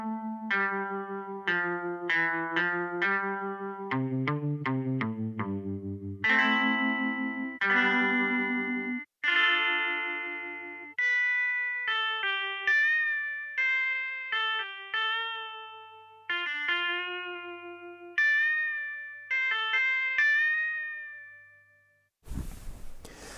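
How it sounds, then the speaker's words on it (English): Mellotron M4000D MkII Rock Guitar voice played on an iPad, a sequence of sustained guitar-like notes and chords with pitch bends, each swelling then decaying, closing with a brief noisy burst. "And here is MkII Rock Guitar."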